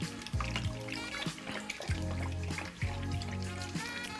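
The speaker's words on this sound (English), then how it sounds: "just mix the starter and the water around so it gets all nice separated" Sourdough starter is stirred into water in a bowl, with soft, wet sloshing and trickling in short bursts over a faint tonal background.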